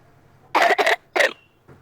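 A girl, told to take a deep breath, coughs three times in quick succession, close and fairly loud. Two coughs run together before a short gap and a third, and no one speaks over them.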